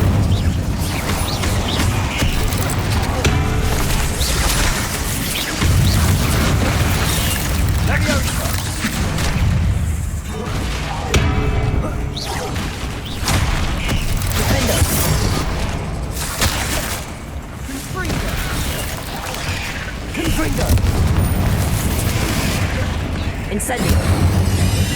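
Incendio fire spells blasting in Hogwarts Legacy on PS5 Pro: loud, repeated booming bursts and crackling explosions layered over dense game sound and voices, rising and falling through the stretch.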